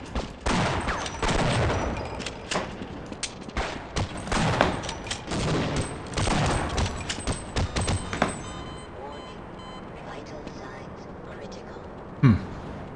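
Rapid bursts of sniper gunfire crack through a Half-Life firefight in dense clusters with several close, hard shots, then thin out to quieter room tone and one last thump near the end.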